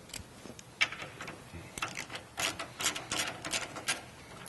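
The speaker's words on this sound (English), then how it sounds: "we're going to use a 15mm socket and remove the rear bolt" Ratchet turning a 15mm socket to remove the rear sway bar bolt at the frame of a Jeep JL, a quick run of clicking, ratcheting strokes with scattered mechanical taps.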